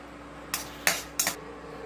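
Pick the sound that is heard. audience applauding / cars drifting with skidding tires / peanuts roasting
peanuts roasting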